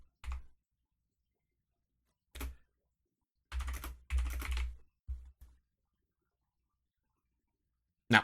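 Keyboard typing as Pokemon stats are entered for a Fire Red and Leaf Green shiny glitch, heard as a few short, sparse bursts of keystrokes separated by silence, close and fairly quiet.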